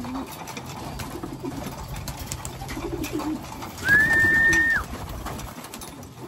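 Breeder pigeons cooing in a loft, with a low steady murmur of birds and one clearer sustained call partway through, close by.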